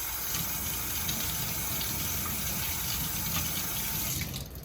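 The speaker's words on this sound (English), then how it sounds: "So cold running water," Cold tap water runs steadily over a banana being rinsed in a kitchen sink, a constant close splashing gush that fades slightly at the end, with no speech.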